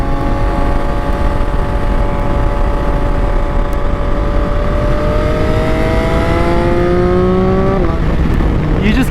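A 2024 Yamaha XSR 900 motorcycle engine drones steadily while riding, its pitch climbing smoothly through the revs. Loud, constant wind rush sits under it, and the note drops sharply near the end as the rider shifts.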